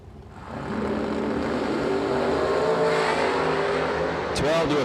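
A drag-racing Camaro launches down the strip at a 20K main event, its engine roaring loud and sustained as the car accelerates away, with a brief sharper burst near the end.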